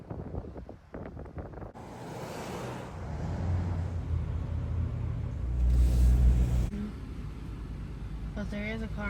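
Car engine and tyre rumble while driving through hurricane-damaged Siesta Key, Florida, behind another vehicle, a steady low drone mixed with wind buffeting that swells midway, with people talking over it.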